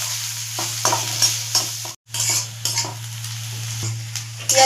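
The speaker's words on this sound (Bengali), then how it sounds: "আমি পেঁয়াজগুলো দিয়ে লাল করে ভেজে নিচ্ছি" Onions fry in mustard oil in a wok with nigella seeds and dried chillies, a loud close sizzle broken by regular scraping spatula strokes and a brief cut-out, over a steady low hum.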